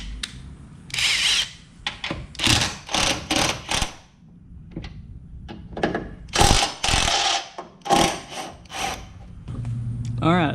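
A power tool whirs in repeated short bursts while backing out bumper screws on a Ford F-250 Powerstroke pickup, close and loud with brief pauses between runs.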